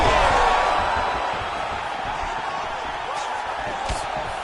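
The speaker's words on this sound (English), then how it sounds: "you hear the crowd react every time they come together" Arena crowd noise in the UFC 5 video game fight, a loud roaring, cheering swell that eases slightly and then holds steady, with brief thuds of impacts under it.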